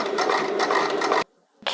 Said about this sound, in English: we're gonna jump on the sewing machine again